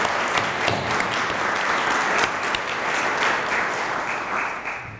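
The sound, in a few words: audience applause at a veterans appreciation ceremony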